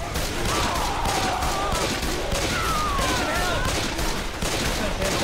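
Rapid, dense gunfire from several weapons pours continuously at a Tank in the zombie shooter Left 4 Dead 2, loud and sustained with no pause, while players call to each other over it.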